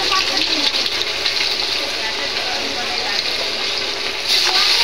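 Fish frying in hot oil during large-scale home cooking for a family meal, a dense continuous sizzle close by with a brief rise near the end, no clear talking.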